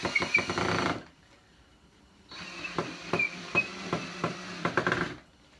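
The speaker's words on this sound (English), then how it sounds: "Get your screws all in there really fast." A power driver sinks screws into a wooden bar stool in two close bursts, a buzzing motor whir with rhythmic knocks, separated by a short near-silent pause.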